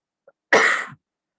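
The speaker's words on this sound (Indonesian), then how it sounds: "agak batuk sedikit" A single short cough, close and fairly loud, preceded by a faint tiny click, then silence.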